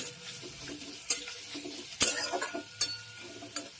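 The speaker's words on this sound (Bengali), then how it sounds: "অর্ধেক তেলে দিলাম। এটা একটু লাল লাল করে ভাজা হবে" Half of a large chopped onion fries in hot oil for a lote fish recipe, giving a quiet, soft sizzle broken by a few sharp stirring clatters near the pan.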